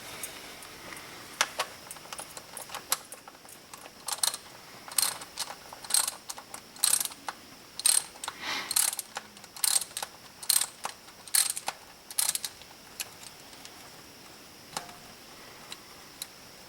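A ratchet clicks in irregular bursts of rapid metallic ticks while unscrewing a car spark plug, with short pauses between strokes, close and clear against a quiet background.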